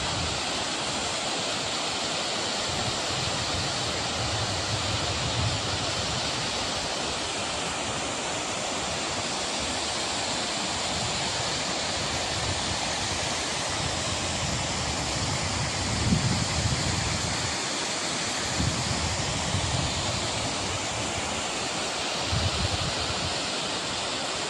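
Fast-flowing water stream at a hillside site, a dense, continuous rushing wash that stays loud and steady throughout with no voices over it.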